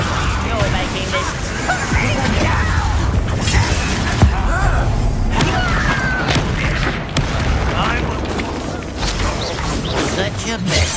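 Combat spells such as Confringo burst with booms and crashes during a fight in Hogwarts Legacy, repeated impacts over dense game noise while a voice talks throughout.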